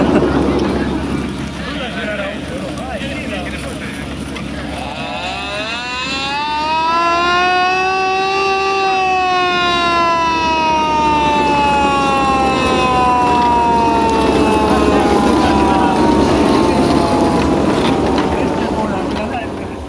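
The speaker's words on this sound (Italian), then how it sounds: "La sirena!" A loud wailing siren slowly rises and falls in pitch, sustained for many seconds over crowd noise and low rumble, at a wheat threshing festival in Ponte Buriano, Arezzo.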